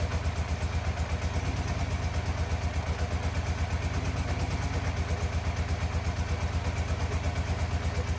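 A 1987 Yamaha FZR 1000 Genesis motorcycle engine idles steadily and close by, its low, even pulsing running without change and with no voices.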